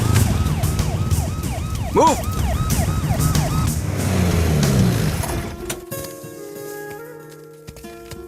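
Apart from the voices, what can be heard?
ambulance siren in traffic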